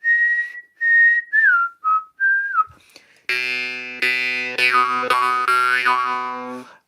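A few short whistled notes with pitch slides, then a bright, buzzing jaw harp (morchang) twanging in repeated plucked bursts, its pitch gliding to mimic a whistle, close and loud.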